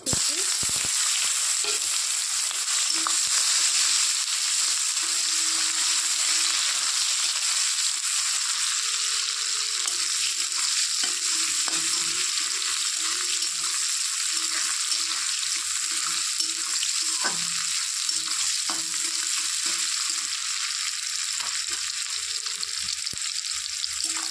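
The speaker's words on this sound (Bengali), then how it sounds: "পেঁয়াজটা একটু লাল লাল করে নেব" Onions frying in hot oil with crushed cardamom for a Bengali bhola fish oil jhal, giving a steady, close sizzle that holds evenly throughout with occasional stirring sounds and no talk.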